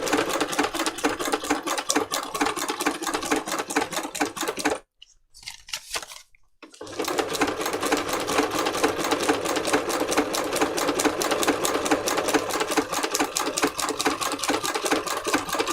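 A sewing machine stitches free motion embroidery on a junk journal cover, its needle hammering in a fast, steady, close rhythm, breaking off for about two seconds and then resuming at the same rapid pace.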